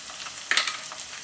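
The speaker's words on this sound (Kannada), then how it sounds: "ಇದೆಲ್ಲ ಚೆನ್ನಾಗಿ ಫ್ರೈ ಆಗಲಿದೆ ಈರುಳ್ಳಿ ಫ್ರೈ ಆಗಿದೆ ಬಟಾಣಿ ಸೇರಿಸ್ಕೊತಾ ಇದ್ದೀನಿ" Onions and peas frying in a pan, a soft steady sizzle with a brief scrape of a spoon stirring midway, close by and fairly quiet.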